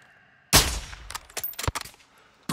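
Sniper rifle shots in Call of Duty: Modern Warfare II, a loud sharp report followed by a rapid cluster of further bangs and a final shot at the end.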